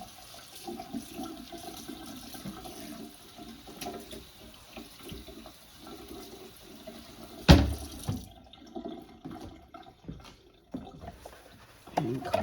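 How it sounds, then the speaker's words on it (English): Tap water runs into a kitchen sink while a cutting board is quickly rinsed, a steady rushing splash lasting several seconds, then a sharp clatter and the flow cutting off, followed by scattered quieter knocks and drips. "I'm going to quickly rinse off this board."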